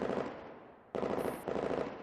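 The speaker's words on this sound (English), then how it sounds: "the gunshots are still echoing faintly through the narrow corridor" Rapid bursts of gunfire, loud and sharp, ring out alone with a short reverberant tail, like shots echoing down a narrow corridor in a run-down building.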